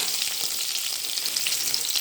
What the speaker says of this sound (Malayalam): കടുക് പൊട്ടുമ്പോൾ കുറച്ച് കറിവേപ്പില